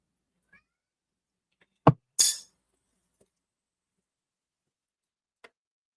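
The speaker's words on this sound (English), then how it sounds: "if you can hear my cat, I apologize." A hungry house cat gives a single short meow close by, preceded by a brief knock, with near silence and a faint tick afterward.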